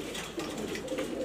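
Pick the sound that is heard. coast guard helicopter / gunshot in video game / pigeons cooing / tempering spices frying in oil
pigeons cooing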